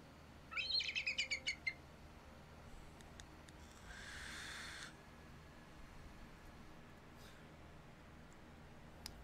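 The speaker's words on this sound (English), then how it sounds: "That's what an eagle sounds like." In the video game Fallout 76, a shrill eagle cry sounds as a quick burst of five or six rapid, high yelping notes, followed by a soft rushing hiss and a few faint distant chirps, with no talk.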